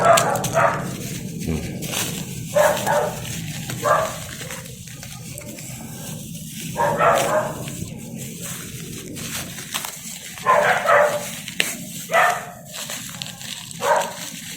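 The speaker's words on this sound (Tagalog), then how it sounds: "Pasensya na po sa ingay ha, medyo tumatawol yung aso ng kapitbahay." A neighbor's dog barks off and on at a moderate distance, short bursts spaced irregularly, with some whimpering yips between them.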